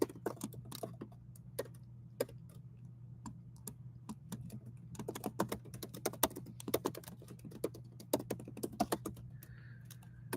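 Steady keyboard typing on a computer, rapid irregular clicks and keystroke bursts for about ten seconds over a low steady hum, fairly quiet and close.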